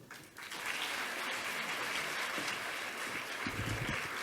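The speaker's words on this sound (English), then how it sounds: "A big round of applause for Yogesh" Audience applause at a civil services workshop: sustained clapping that swells in quickly and holds steady and fairly faint for several seconds, with a brief voice near the end.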